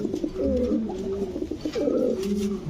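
Bald head Archangel pigeons, copper-coloured birds, coo steadily in a loft, their soft throaty warbling continuous and close throughout.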